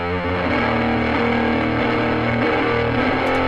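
Heavily distorted, drive-effected sustained tones fill the sound, bright and compressed with little change in loudness throughout.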